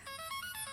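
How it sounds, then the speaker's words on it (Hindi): A phone plays a short, faint electronic ringtone of bright repeating tones. "राजा ने फोन किया है।"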